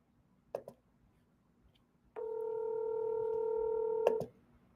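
A phone dialing a call: a couple of brief clicks, then a single loud, steady tone held for about two seconds before cutting off, heard alone.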